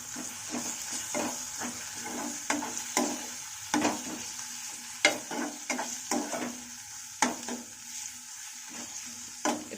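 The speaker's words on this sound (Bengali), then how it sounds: "দিয়ে এবারে এগুলো একটু নাড়াচাড়া করবো।" Potatoes with garlic paste being stirred in a frying pan for Bengali aloo dum, with steady close sizzling under repeated spatula scrapes and knocks against the pan, no voices.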